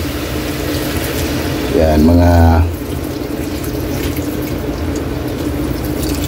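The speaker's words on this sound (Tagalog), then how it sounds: "At pwede na tayong maglagay ng tubig." Water poured into a cooking pot while making pancit bato, a steady wash of running liquid with a brief louder gush partway through, heard under a voice talking.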